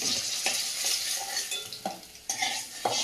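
Fish frying in a pan, with a soft, steady sizzle broken by several clinks and scrapes as the pieces are stirred and turned, close up and fairly quiet.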